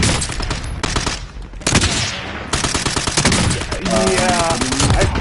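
Rapid automatic gunfire in Warzone Rebirth rattles in dense bursts, loud and close, with short pauses between volleys and a voice briefly speaking over the shots.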